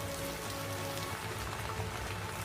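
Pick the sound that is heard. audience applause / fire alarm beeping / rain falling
rain falling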